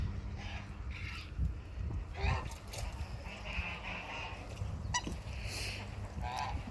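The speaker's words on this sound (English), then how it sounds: "The geese are in the berry patch." Geese honk repeatedly outdoors amid steady background noise, with a few louder calls standing out at moderate distance.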